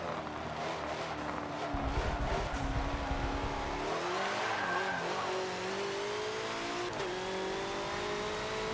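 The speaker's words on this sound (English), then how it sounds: "Car sounds and feels really good." A BMW M6 GTLM race car engine in Forza Motorsport 7 whines and shifts pitch as it accelerates, with a brief burst of tire squeal and rumble in the middle.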